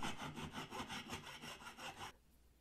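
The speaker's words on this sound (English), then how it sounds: "So I'm going to need to rasp the hole to open it up a bit enough to fit the mechanism in." A rasp works back and forth in a drilled hole, widening it to fit a latch mechanism on a cooler box. About eight rhythmic rough scraping strokes sound close and fairly quiet, then stop.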